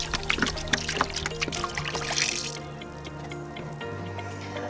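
Apple cider vinegar pours and splashes onto a rusty cast iron pan in a close, trickling stream that fades after a couple of seconds, leaving light ticks and a faint hum.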